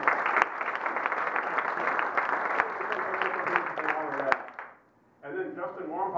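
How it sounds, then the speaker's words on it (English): A round of applause at a Rotary club meeting, moderate clapping from a modest room for about four seconds, then a brief pause and someone speaking. "I'd like to give him at least a round of applause"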